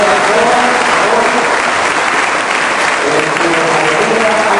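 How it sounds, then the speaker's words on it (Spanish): Loud, sustained applause from a crowd honoring the couples at a collective wedding ceremony for 78 couples in a parish, clapping continuously without a break. "Le damos un fuerte aplauso a todas las parejas"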